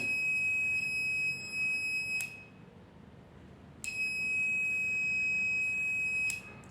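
A high steady electronic tester beep sounds for about two seconds while a coin-machine push-button switch is pressed, stops, then sounds again for a couple of seconds over a quiet background.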